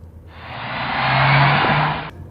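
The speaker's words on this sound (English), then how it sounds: "the noise itself that it makes is just a little bit whiny." A Nissan Juke's turbocharged engine revs up, a loud broadband rush with a slightly whiny tone that swells to a peak and then cuts off abruptly, with no one speaking.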